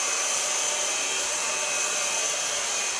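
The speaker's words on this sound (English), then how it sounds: "Start blow drying with the same paddle brush I started with." Hair dryer blow drying hair with a paddle brush at a salon, a loud, steady, close whoosh of air holding evenly throughout with no talking.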